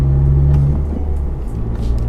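A Honda Civic Type R with a modified clutch master cylinder runs up through the gears, engine droning loud and close, then the pitch drops sharply at a quick shift and builds again.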